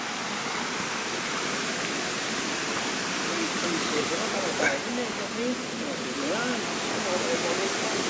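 Linhope Spout waterfall in the Ingram Valley roars in a steady, broad rush of falling water, close and constant throughout, with people's voices faintly talking beneath it.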